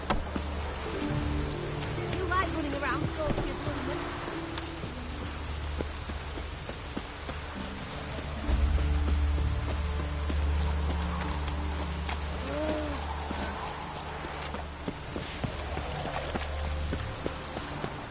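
Steady rainfall in The Witcher 3 patters on surfaces throughout, a continuous close hiss of drops with a low rumbling swell midway and faint game sounds beneath.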